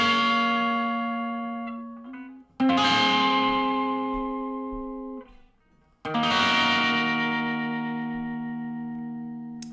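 Electric guitar strumming chords from a song, three loud struck chords each left to ring and decay, with a slight crunchy distortion and no voice.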